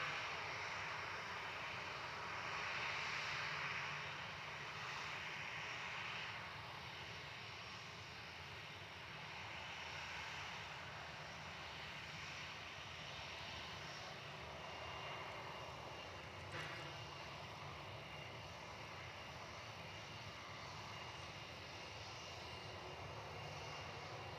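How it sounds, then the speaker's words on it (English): Jetstar airliner taxiing at Gold Coast Airport, its jet engines a steady, broad roar with a whining tone, moderately distant and unchanging throughout, no talk. "This Jetstar seems to be taxiing pretty quick"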